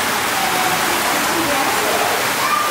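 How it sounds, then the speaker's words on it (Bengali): Heavy rain falls steadily on a tin roof, a dense continuous hiss of water close by, unchanging throughout, with faint traces of voices beneath. "দেখেন ওই দেখেন টিনের চাল দিয়ে বৃষ্টি পড়তেছে"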